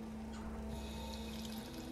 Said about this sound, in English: Wash it down with some water